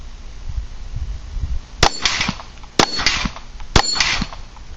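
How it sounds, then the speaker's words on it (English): Glock 19 Gen 4 pistol fired at about 7 yards, three sharp loud gunshots roughly a second apart, each with a short echoing tail over faint background noise. "I'm shooting here at about 7 yards."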